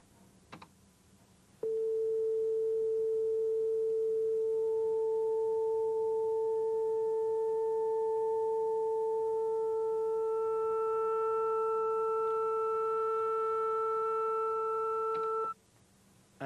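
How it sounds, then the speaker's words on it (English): A steady electronic tone sounds for about fourteen seconds, starting as a pure 440 Hz sine wave and growing richer as two higher sine-wave harmonics join in, then cutting off abruptly. "I'll play the sine wave at 440 hertz and add in the other two sine waves"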